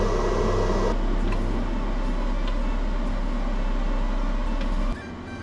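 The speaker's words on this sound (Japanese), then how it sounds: "このソファー下にインバーターがあるんですけど、ファンがもう速攻回り始めました。" An inverter's cooling fan spins under the sofa of a DIY kei-car camper van, making a steady whirring hum with a low drone that cuts out abruptly near the end.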